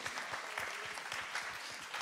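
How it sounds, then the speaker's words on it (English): Audience clapping steadily at a church Christmas service, a dense broadband patter of many hands filling the room for a couple of seconds with no talk over it. "So can we just have a round of applause?"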